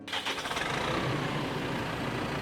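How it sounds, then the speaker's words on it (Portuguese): An LS tractor engine turns over and settles into a loud, steady rumbling roar, close by and continuous, with rhythmic pulsing at the start. "Foi com o ronco do trator."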